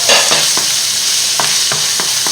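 Carrots frying in a pan with onion are stirred in several quick scrapes over a steady, close sizzle, with no voices.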